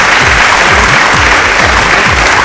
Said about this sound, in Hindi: तो जोरदार ताली है भैया